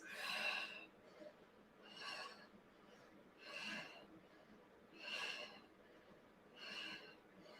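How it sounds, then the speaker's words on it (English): Five forceful exhaled breaths during a floor exercise, each a short breathy rush about every second and a half, close and clear against a quiet background. "Exhale on each pulse"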